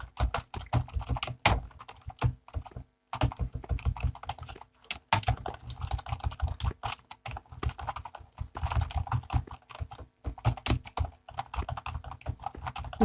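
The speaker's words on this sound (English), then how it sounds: "So let's just start typing." Rapid typing on a computer keyboard, dense clusters of close keystrokes in bursts with brief pauses, steady and near, no talking.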